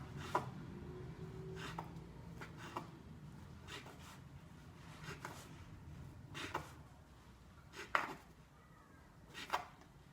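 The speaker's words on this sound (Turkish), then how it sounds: "Şimdi ince ince doğrayacağım." A knife finely chops rolled yufka flatbread on a board, sharp taps spaced about a second apart, quiet and close with a faint background hum.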